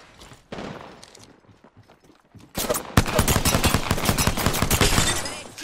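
Rapid gunfire from a P2020 pistol and other weapons in Apex Legends, starting as quieter scattered shots, then erupting into a loud, dense volley of close shots.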